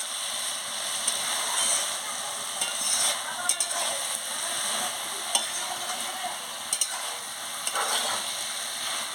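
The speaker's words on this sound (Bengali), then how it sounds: "মিষ্টিটা দিয়ে ভালো করে নাড়িয়ে নিচ্ছি।" Cabbage curry with fish head sizzling and frying in a pan as it is stirred, giving a steady crackling hiss with soft scraping strokes, close and continuous, with no talking.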